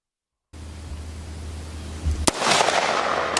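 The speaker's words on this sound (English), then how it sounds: "The AR-15 suppressed versus unsuppressed." Unsuppressed AR-15 rifle shot: a single sharp crack after a low steady hum, followed by a noisy decaying tail, fairly quiet overall.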